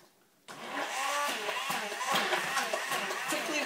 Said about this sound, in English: Take an immersion blender